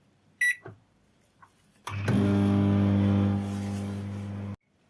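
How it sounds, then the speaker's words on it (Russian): A microwave oven reheats jam-filled cheese pastries, giving a steady, loud electrical hum that runs for almost three seconds and then cuts off abruptly, after a few faint clicks and knocks. "кладу их в микроволновку, закрываю и включаю микроволновку на 30 секунд"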